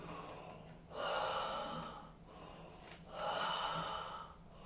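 Heavy, deliberate breathing during a bioenergetics exercise, two long forceful breaths with gasping, snorting edges, each rising and fading in a slow rhythm, close and alone with no talk.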